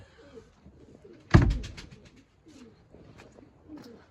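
Tumbler pigeons coo softly in the background around a loft in fresh snow, with one sharp louder burst of wingbeats or movement near the middle before the low cooing resumes.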